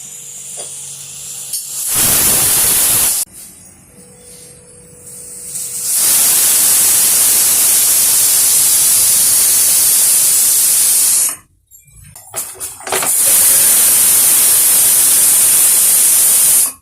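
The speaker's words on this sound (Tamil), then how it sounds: "நம்ம முந்திரி திராட்சையை ஃப்ரை பண்ணி எடுத்துக்க போகிறோம்" Cashews and raisins frying in hot ghee, giving a loud, steady sizzling hiss that comes in long bursts broken by two brief quiet gaps.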